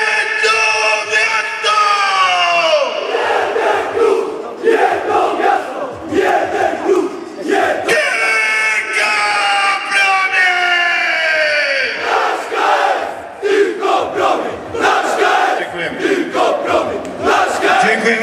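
A large crowd roars and cheers loudly at a sports team presentation in Żary, Poland, with shouts rising and falling in waves throughout.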